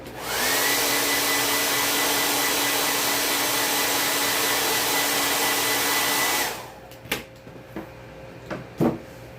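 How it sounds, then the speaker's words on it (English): A hair dryer blows on a Halloween ghost craft tag for about six seconds, a loud steady whir that cuts off, followed by a few light knocks and handling clatters. "I'm going to blow dry him a little bit. It's about to get loud here."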